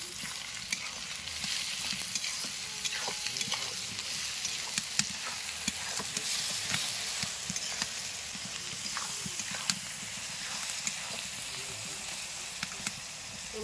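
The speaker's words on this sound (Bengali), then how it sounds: "তো পেঁয়াজ কষা হয়ে গেছে, এর মধ্যে একটু নুন দিয়ে দিই" Sliced onions fry steadily with a pinch of salt in a village kitchen pan for chicken kasha, a dense continuous sizzle dotted with small crackles and occasional spoon scrapes, close and even throughout.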